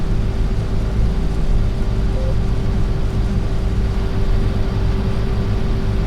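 A quiet tractor idling in a farming video game, giving a steady low engine drone with a faint constant hum that stays even and unbroken.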